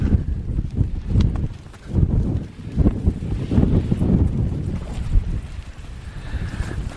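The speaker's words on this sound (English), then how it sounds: "It is blowing a gale." Strong gale wind buffeting a mountain summit in the Brecon Beacons, a loud, continuous rushing roar that swells and eases in gusts, with heavy low rumble against the microphone.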